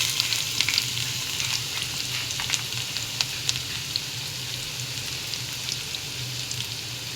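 Chopped onion frying in hot oil for a pangas fish curry with potatoes, a soft, steady sizzle with faint crackles and occasional stirring taps, close by and free of speech.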